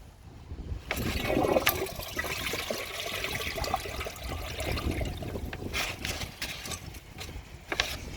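An elongated Vortens Vienna toilet from 2011, pulled from a plumbing store dumpster, flushes: a brief mechanical click, then a steady rush and gurgle of draining water, fairly quiet and close.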